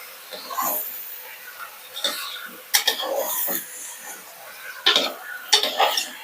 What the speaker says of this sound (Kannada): ಈ ಒಗ್ಗರಣೆ ಜೊತೆಗೆ ಚೆನ್ನಾಗಿ ಮಿಕ್ಸ್ ಮಾಡ್ಕೋಬೇಕು.